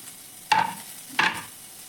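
Onion and coconut dry-roasted in a pan with no oil, giving two short scraping stir strokes with a faint crackle against quiet background.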